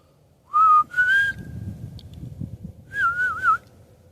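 A person whistles in the forest, imitating a whistle heard there: three clear, close whistled phrases, one short, one sliding and longer, then a wavering warble after a pause, with no talk.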